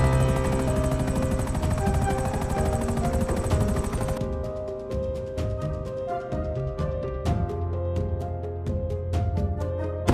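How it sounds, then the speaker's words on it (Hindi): A helicopter in a video game flies over a building, its dense rotor drone running throughout, while sharp bursts of rapid gunfire crackle over it in the second half, loud and busy. "हेलीकॉप्टर जैसे ही बिल्डिंग के ऊपर आता है"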